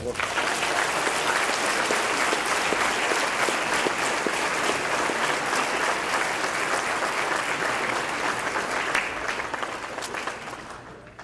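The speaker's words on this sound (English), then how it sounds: "let's give Chris a big round of applause" Sustained, loud applause from the audience at a university baseball banquet, honoring a departing figure, dense clapping held steady for over ten seconds before easing slightly at the end.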